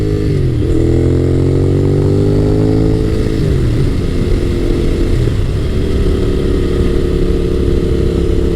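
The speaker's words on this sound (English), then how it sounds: "They love the power delivery and that big torque hit and that V-twin sound." Honda VTR1000F SuperHawk V-twin motorcycle engine, a loud close rumbling drone that rises and falls through a few rev changes before holding a steady pitch, with no talk.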